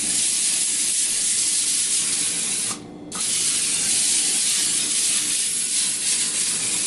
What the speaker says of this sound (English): I actually want to go ahead and spray down the baking sheet I've got over there